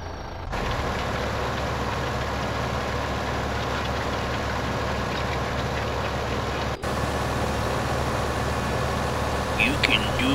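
Tractor engine in the video game Farming Simulator 15, a steady low idling drone running throughout with a brief dropout near the middle, while someone talks over it.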